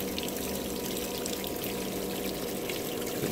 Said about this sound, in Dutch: En dan de pomp aan.